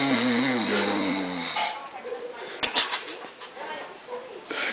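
Loud, throaty snoring opens the moment in a rough, rhythmic rasp before stopping, followed by quieter room noise, a sharp knock and people talking nearby.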